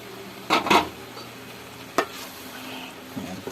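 A spoon stirring boneless milkfish (bangus) in its broth in a pot, a few soft scraping strokes close by over a low steady simmering hiss, with a couple of faint clinks near the end.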